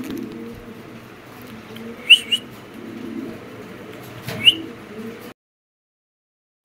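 Birmingham Roller pigeons make low soft cooing over a steady murmur, with a few brief sharp chirps and a faint flutter nearby; no voices.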